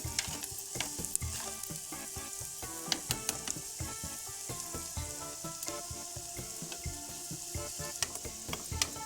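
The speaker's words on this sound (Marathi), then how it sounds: "आणि बघा आता आपण ना पिंड टाकून हे बघा त्याला मध्ये करपून घेऊ चांगलं" Masala fries in a pot for a Gavran-style chimbhori crab curry, crackling and sizzling continuously up close with dense spitting pops and occasional utensil clinks, no one speaking.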